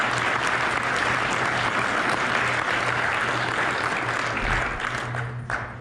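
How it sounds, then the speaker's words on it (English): Sustained applause from an audience following a presentation at a TAU 2018 event, dense steady clapping lasting throughout and tapering slightly at the end, with a low steady hum underneath. "Let's give applause for that."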